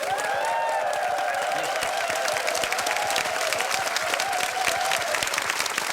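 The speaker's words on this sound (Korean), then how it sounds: "그 아름다웠던 만남에 박수 한번 보내주십시오." A Korean TV show's studio audience claps in a loud, sustained, even burst lasting throughout, with faint tonal sounds layered underneath and no talk.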